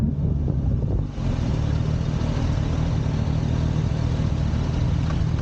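Suzuki Katana GSX-S1000S motorcycle on a test ride, its GSX-R1000-derived engine droning loudly and steadily under heavy wind rush, with a brief dip near the start as the throttle eases.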